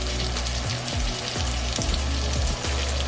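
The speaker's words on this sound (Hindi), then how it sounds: "So इन्हें थोड़ी देर के लिए आपने फ्राई करना है, बहुत ज़्यादा देर के लिए नहीं करना" Chicken pieces frying briefly in hot oil in a pan give a close, steady sizzle with small crackles, and a low hum runs underneath the whole time.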